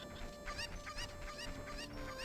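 Cucco chickens in Ocarina of Time cluck and squawk again and again in short, rising calls over a low, steady game background hum, all faint.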